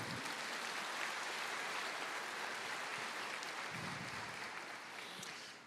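A church congregation applauds with a dense, continuous wash of clapping that fades slightly at the end, heard at a distance and fairly quiet.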